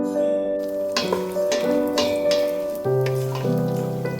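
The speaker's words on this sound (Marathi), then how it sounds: "तर हे आपण तळून घेऊया" Almonds and other dry fruits fry in ghee, a soft, steady sizzle with light crackling, fairly close, alongside a few faint clinks.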